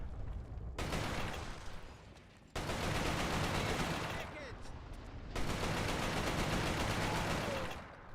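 Sustained gunfire bursts in a shooter video game, loud dense volleys in three long stretches separated by brief lulls, with no talking.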